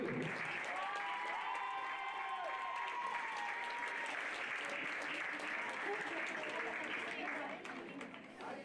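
An audience at an equestrian awards ceremony applauds the vice-champions, a sustained, fairly distant wash of clapping with voices and speech running over it, thinning slightly near the end.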